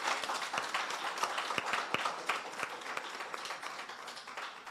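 Applause from a seminar audience at a trade event in Jamaica: steady, dense clapping from many hands, moderately distant, sustained throughout with individual sharper claps standing out.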